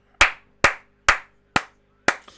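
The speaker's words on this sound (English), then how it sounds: "Or maybe a slow clap." A slow clap at a wrestling show: five sharp, single hand claps spaced about half a second apart, loud and close, each ringing out briefly in an otherwise quiet space.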